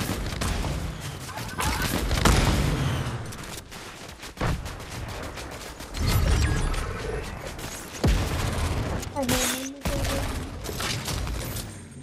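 Rapid bursts of video-game gunfire, with repeated shots and volleys that rise and fall, and a few booms, loud and continuous across the stretch, with voices talking underneath.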